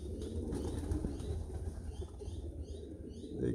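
A loft of tiger grizzle and Carno's Meuleman racing pigeons, including many youngsters, keeps up a soft, rolling cooing over a bed of rustling and shuffling, fairly near and unbroken, with no voices.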